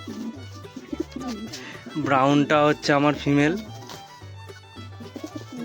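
Pigeons at a pigeon sale, a brown female among them, give low, repeated coos close by, most audible before and after someone speaks over them in the middle.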